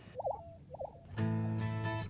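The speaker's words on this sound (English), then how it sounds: "It's courting time for prairie chickens." Two low hooting coos from prairie chickens at a courting lek in Kansas, then a loud, steady droning call with a hum underneath, over a quiet outdoor background.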